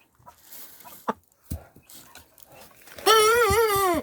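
A rooster near small chicks lets out one loud, close crow with strong harmonics near the end, after a few scattered clucks and short farmyard noises.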